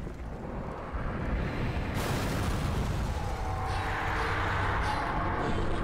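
Heavy explosive booms from animated rockets in a Skibidi Toilet battle: a dense rumbling roar that surges sharply around two seconds in and stays loud and sustained, close and alone without voices.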